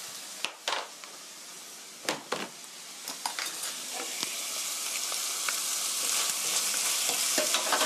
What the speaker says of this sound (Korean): 고루 볶아주세요.